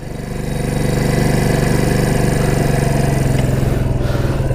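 A small Yamaha Breeze mini quad engine idling close by, a loud steady rhythmic putter that rises briefly at the start and then holds an even, slightly rough beat throughout.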